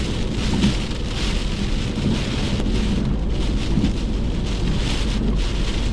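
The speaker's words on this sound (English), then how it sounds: "This wind and this rain is absolutely howling." Heavy rain pours steadily with strong wind roaring throughout, a dense continuous wash of noise with no voices.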